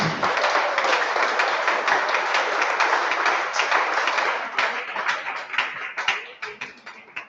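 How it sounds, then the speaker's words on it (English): An audience at a voter-access campaign event gives a sustained round of applause, dense and loud at first, then thinning to scattered claps toward the end. "let us give INEC a resounding round of applause"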